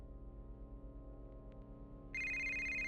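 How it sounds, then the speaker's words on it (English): A phone begins ringing partway through, a bright electronic ringtone cutting in over a low steady hum, close and clear. "I woke to a phone call from my wife."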